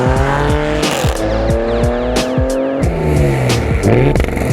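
A 2019 Audi RS5 with all-wheel drive and turbos launches hard under launch control, its engine roaring loud and close through rapid upshifts with short gaps between gears, no voices over it.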